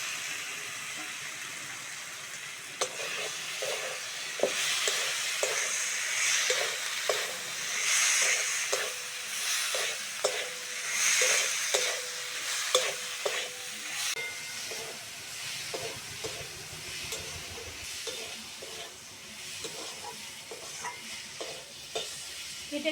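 Previously fried potatoes tossed into a hot pan and stirred, a steady hissing sizzle with repeated scrapes and knocks of the spatula, close up and without talk, easing off toward the end.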